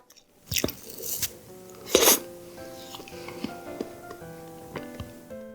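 Mango ice cream bingsu being eaten up close: spoon clinks and crunchy bites of shaved ice, then soft chewing and mouth sounds, with a few brief vocal murmurs.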